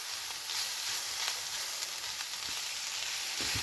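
Sliced onions for a Kerala-style onion thoran are stirred in an open pan, making a quiet, continuous frying hiss with a few faint stirring taps.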